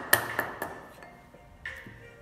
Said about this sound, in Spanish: con la espalda del formón hacia la parte superior y cogemos pequeñas capas y golpeamos